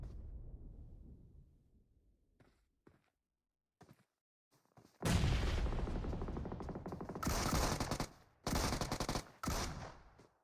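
A grenade blast followed by bursts of gunfire in the mobile battle royale game PUBG Mobile: a low rumbling boom fades out, then after a few faint clicks, loud close bursts of automatic fire come in rapid sharp volleys.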